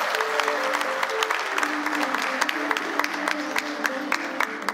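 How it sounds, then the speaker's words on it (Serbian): A cabaret audience at a summer cultural festival in Obrenovac applauds steadily, a dense even wash of many hands clapping, fairly distant and sustained, with no talk over it. "jedan aplauz za služenja"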